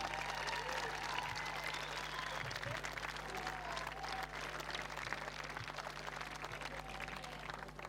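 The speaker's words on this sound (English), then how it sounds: "So a big round of applause, please," A crowd at a secondary school rowing regatta applauds the St. Peters girls' under-16 coxed eight as silver medal winners. The clapping is continuous and fairly distant over a steady low hum, with a few faint voices and whistles mixed in.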